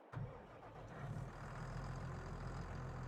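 A tractor engine idles in the Farming Simulator 22 video game, a steady low mechanical rumble that starts abruptly and then holds at an even level with no talking.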